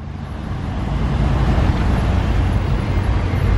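A Mercedes G-Class 4x4² drives by, its deep engine rumble swelling from moderate to loud and holding close, with no talk over it.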